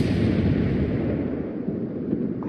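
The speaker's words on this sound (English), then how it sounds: "Why are they shooting me?" Dense, sustained rumble of naval gunfire and shell blasts aimed at the player's ship in World of Warships, a loud continuous barrage with no clear gaps and no voices.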